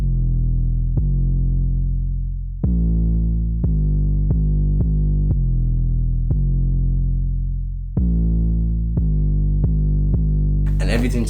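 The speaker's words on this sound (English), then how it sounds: "So then put in this very simple 808 bass line that went perfectly with the main melody" A simple, heavily distorted 808 bass line in a trap beat, with deep sustained notes retriggered in an uneven rhythm that swell and decay, and a short burst of hi-hat-like noise at the end.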